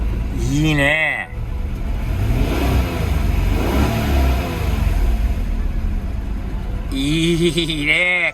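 A 1991 Honda NSX engine revs up loudly and holds a strong, close mid-range roar for several seconds, with voices talking briefly at the start and end.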